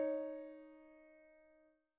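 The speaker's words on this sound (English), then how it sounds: "Finally, the minor seventh is made up of 10 half steps," Minor seventh interval, two notes ten half steps apart, played together on a piano-like instrument; a single struck chord rings for under two seconds, then is cut off.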